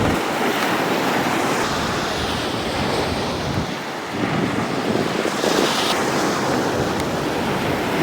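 Waves roar and surge steadily on the beach at Mimiland, Batu Payung, Singkawang during a morning jog, with a continuous loud wash of surf and gusting wind buffeting the microphone throughout.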